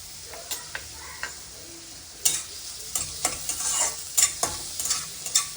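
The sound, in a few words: onions frying with salt in a pan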